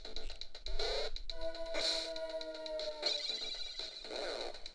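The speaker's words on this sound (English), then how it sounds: "That sound was my defense shield breaking." A bright electronic sound effect of a defense shield breaking in the game CIMA: The Enemy, with sustained tonal layers and shimmering high accents, steady and fairly loud throughout, no talking.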